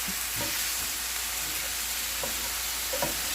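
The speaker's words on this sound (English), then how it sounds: "I have my meat on medium-high heat. I'm in my skillet. I'm just going to chop this up" Ground meat frying in a skillet over medium-high heat, a constant dense sizzle with a few soft scrapes and taps of a chopping tool breaking it up, close and steady with no talking.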